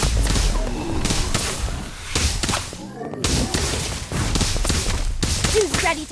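Spell effects in a Harry Potter: Magic Awakened game, with sharp whip-like cracks and whooshing bursts repeating over several seconds, loud and close, with a voice calling out spell names over them.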